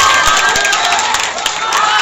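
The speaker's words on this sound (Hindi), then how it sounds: "एक बार जोरदार ताली बजा दे तो और मजा आएगा।" An audience at a student honouring ceremony at an English coaching class claps and cheers loudly in a short, dense burst of applause that fills the whole moment.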